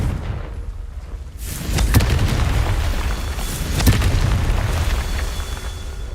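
A Confringo fire spell cast in the video game Hogwarts Legacy, heard as two loud booming blasts about two seconds apart over a steady rumbling bed of game noise.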